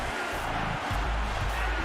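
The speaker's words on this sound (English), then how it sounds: "Crowd getting fired up here." Loud, sustained crowd roar and cheering in an NCAA 14 college football video game at Texas State in San Marcos, a dense wall of noise that surges midway through.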